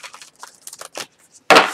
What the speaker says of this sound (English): one more shuffle and we'll be good to go